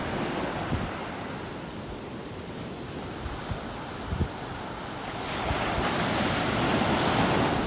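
Ocean surf washing onto a beach at sunrise, a steady broadband roar with gentle swells that grows louder and fuller toward the end, with some wind buffeting the microphone.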